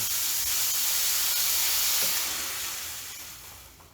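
A garment steamer, compared alongside a US Steam Falcon Plus and McCulloch 1375, lets out a loud, steady hiss of steam that holds strongly before tapering off toward the end.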